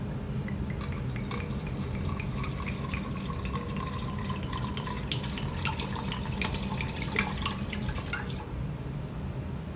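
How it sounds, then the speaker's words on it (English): Wine pours into a pot for mulling, a close, steady trickling stream with small drips and light clinks of kitchenware, running for most of ten seconds before cutting off, with no voices. "First I'm gonna pour the wine in here."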